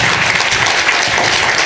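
An audience applauds at a university innovation support program performance forum after a keynote speech, a loud, dense, even burst of clapping that fills the whole moment.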